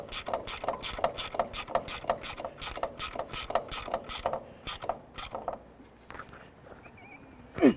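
A hand ratchet clicks rapidly in steady, evenly spaced bursts while a nut is tightened down on the front shock mount of a 2002-2009 GMC Envoy, close and clear, then slows and stops.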